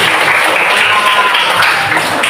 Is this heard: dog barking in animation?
no